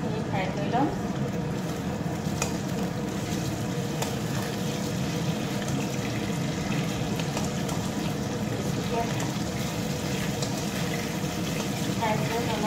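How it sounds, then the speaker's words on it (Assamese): Fish fries in a pan for a fish curry with tangy greens, giving a steady, even sizzle throughout with no breaks, while a person talks over it. "মই মাছখিনি ফ্ৰাই কৰি আছোঁ"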